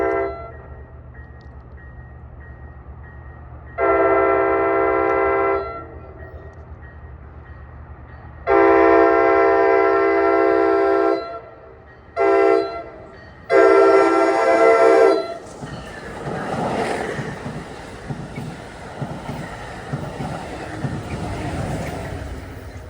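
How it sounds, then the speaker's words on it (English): A Hoboken-bound commuter train on the ex-Erie Main Line in northern Bergen County, New Jersey sounds its horn in four blasts, two long and two shorter, then rumbles loudly past the station. "8:24, we have a Hoboken bound train here."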